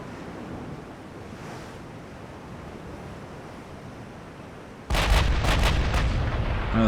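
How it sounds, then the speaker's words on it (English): A low ocean and wind rumble from the naval game Ultimate Admiral: Dreadnoughts is cut by a sudden salvo of battleship turret fire near the end, several heavy booms in quick succession. "We can get all of our turrets firing"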